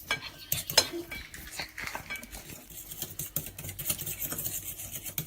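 Egg yolks for chocolate mousse being whisked quickly in a bowl, a busy run of close utensil clinks and scraping strokes against the dish, steady and fast throughout with no talk.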